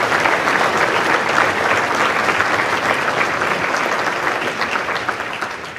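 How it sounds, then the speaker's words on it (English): Sustained audience applause fills a banquet hall, dense and steady throughout at close range, slowly easing off toward the end with no voices standing out. "Another round of applause, please."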